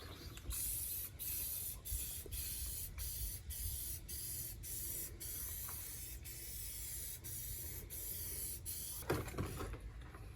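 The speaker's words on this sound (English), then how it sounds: "And that's how quick it was to spray this black." A spray can hisses in steady bursts while black paint goes onto a tube for RV sewer hose storage, close and continuous with brief pauses and a short clatter near the end.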